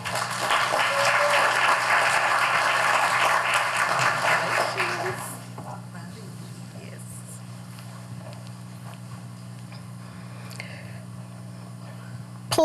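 Audience applause at a teacher of the year luncheon, a dense, loud wash of clapping for about five seconds before dropping to quieter room noise.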